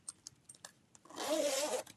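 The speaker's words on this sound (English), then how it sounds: "we see one of the Simon Says Stamp mesh zipper bags" A fabric mesh zipper bag from a card kit unboxing is unzipped in one smooth, close rasping pull, preceded by a few small handling clicks and rustles.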